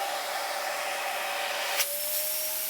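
A Panasonic MC-CG917 Opti Flow canister vacuum cleaner runs with a steady, close, high-pitched whooshing roar, its tone shifting briefly partway through as the suction changes.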